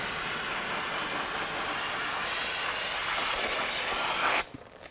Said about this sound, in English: use some spray solvent to clean this down and get all that brake dust off